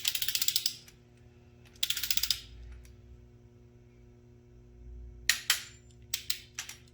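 A torque wrench ratcheting while rocker arms are tightened on an LS engine head, two quick runs of sharp close clicks, then scattered louder single clicks and snaps near the end.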